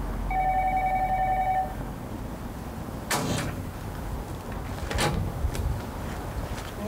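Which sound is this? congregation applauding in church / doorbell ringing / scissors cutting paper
doorbell ringing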